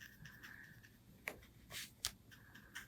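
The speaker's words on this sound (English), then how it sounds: "That clicking noise you might keep hearing is my ring clicking against the paintbrush." Metal ring clicking against a paintbrush handle while painting a portrait, a few sharp close taps scattered over quiet brush-stroke noise, faint and intimate.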